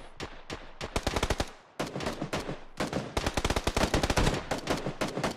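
Rapid bursts of automatic gunfire in the battle royale shooter PUBG, loud and close, coming in dense rattling volleys with a short pause between them and no talk over the shots.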